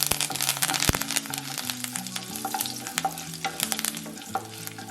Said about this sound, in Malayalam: അല്പം കറിവേപ്പിലയും കൂടെ ചേർത്ത് ഇളക്കാം.